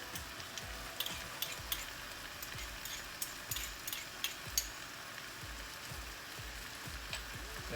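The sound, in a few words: minced garlic sizzling as it is added to the pan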